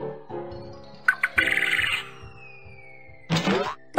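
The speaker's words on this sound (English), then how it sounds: "Quail." Quail call from a toddler animal puzzle game, two short bursts of bright chirping calls over a soft, steady tonal background.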